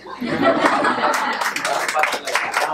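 Audience applause after a stage play performance, a steady wash of clapping from a crowd lasting the whole moment, mixed with scattered chuckles and murmuring voices.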